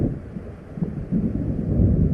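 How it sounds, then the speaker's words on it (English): In the video game Alan Wake, thunder from an approaching storm rolls as a deep, continuous rumble that swells slightly toward the end, with some wind mixed in. "It seems there's a storm coming."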